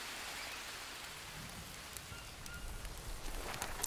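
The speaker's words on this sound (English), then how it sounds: "as soon as I start it, it starts raining" Steady rain falls in the survival video game Green Hell, a fairly quiet, even patter of drops hitting surfaces that swells slightly toward the end.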